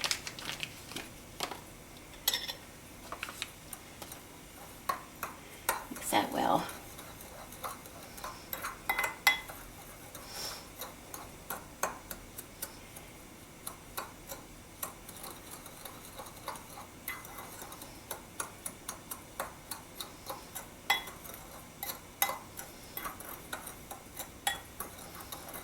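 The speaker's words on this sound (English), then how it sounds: "And I'm just going to mix that" A spoon scrapes and taps steadily against a bowl while sugar and pectin are stirred together, giving a long run of light, irregular clinks and scratches, close but quiet.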